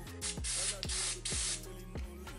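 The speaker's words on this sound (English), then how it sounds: "Wow guys, my spray is nearly finished." Several short bursts of hair spray hiss close up, with steady mechanical hum underneath.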